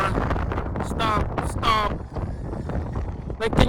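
Strong gusting wind buffets the microphone, a dense low roar with bursts swelling and fading over a few seconds, while short bits of voice come through under it.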